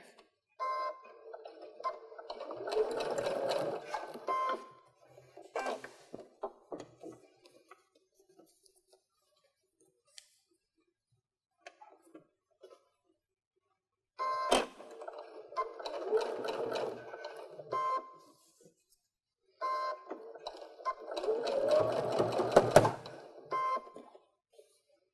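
A sewing machine stitches cording onto a reverse appliqué snowflake pillow in three short whirring runs, separated by quiet pauses where the fabric is repositioned and pivoted at a corner.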